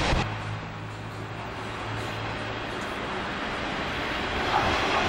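A Sanriku Railway train rumbles steadily into Rikuchū-Noda station, with a constant low wheel and motor drone heard close from inside the carriage.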